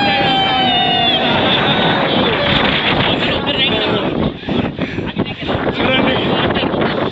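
Strong wind buffets the microphone on a hilltop fort trek at Koraigad near Lonavala, a loud continuous roar with gusts that briefly drop away, and faint voices mixed underneath.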